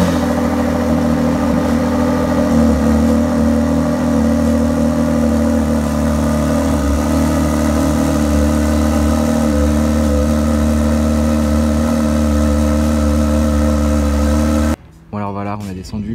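A Ford GT supercar engine runs steadily at a loud idle for about fifteen seconds, a deep droning rumble, then cuts off abruptly near the end; muffled voices sit under the engine.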